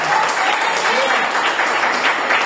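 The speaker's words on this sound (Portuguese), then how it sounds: "Aplauda ao Senhor em nome de Jesus." Church congregation applauding in a sustained dense wash of clapping, loud and steady throughout, with voices mixed in underneath.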